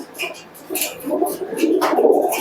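Giribaz pigeons cooing up close, a few soft, rolling coos that build in strength toward the end, with brief chirpy sounds mixed in.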